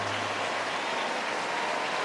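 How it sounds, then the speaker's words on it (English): Stadium crowd at a Red Sox–Cubs MLB game applauding pitcher Cade Horton in a standing ovation, a steady dense wash of clapping and cheering from a large crowd, continuous and even throughout. "Cade Horton is going to get a standing ovation"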